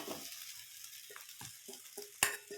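Rice tipped into a pan of fried onions and stirred, a faint sizzle under a handful of soft scraping and knocking strokes, with one sharper clink near the end.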